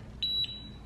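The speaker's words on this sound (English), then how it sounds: "Let the button go. It's gonna beep." A wireless curling iron gives two quick, high electronic beeps in a row, faint and close against a quiet background, signalling the curl is done.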